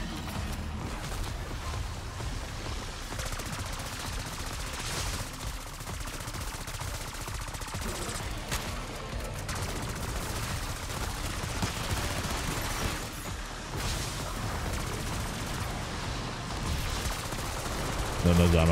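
Rapid, continuous automatic gunfire pours at the final boss in the Black Ops 6 Terminus Easter egg fight, a dense barrage lasting throughout with players' voices talking over it.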